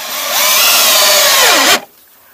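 A power drill drives a screw into a wooden roof counter-batten, a single loud, close whirring run of under two seconds that rises in pitch, then winds down and stops abruptly, with no talk.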